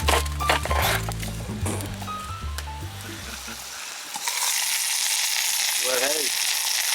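Vegetables and pork frying over a fire sizzle and crackle, with stirring and scraping noises in the first half, then a steady, louder hiss of frying food; brief voice-like sounds occur near the end.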